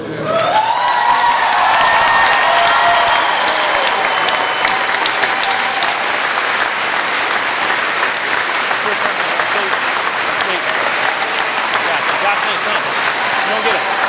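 Sustained loud applause and cheering from a crowd giving a standing ovation at the dedication of Coach Huff Court, a basketball court, with whoops and shouts over steady clapping throughout.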